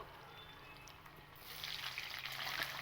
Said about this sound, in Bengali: এবার এই পনিরটাকে ভাজা হোক